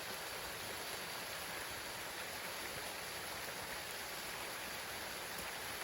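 Steady broadband rush of a waterfall in a forest, a continuous loud wash of falling water with no breaks and no voices.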